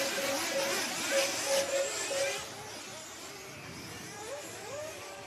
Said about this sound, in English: the pit shot when they all just release the cars. Oh, it's got noisy.